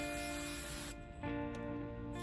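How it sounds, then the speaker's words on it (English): Spray adhesive hisses from an aerosol can in a steady close burst, briefly pausing before a second spray, used to attach fluffy stuffing for a raincloud costume. "tested some spray adhesive, which is what we're gonna use to attach it"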